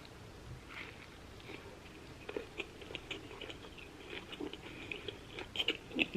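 Close, crisp chewing and biting into a shrimp taco, with irregular crunchy bites that grow louder and more frequent toward the end, with no talking.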